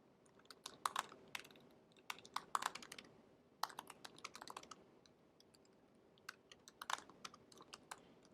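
Typing on a computer keyboard in bursts of quick, quiet key clicks with short pauses between them, close by and soft, with no talk over it.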